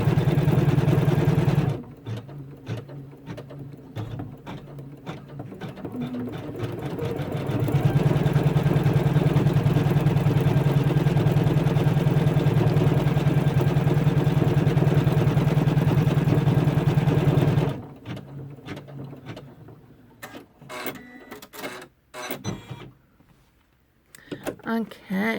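Embroidery machine stitching, a loud rapid mechanical chatter that runs in bursts with pauses between, including a long continuous stretch in the middle, alone without talk.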